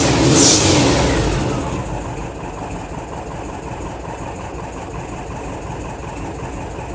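A cold car engine cranks and starts inside a closed garage, bursting into a loud rev that settles into a steady, rough idle.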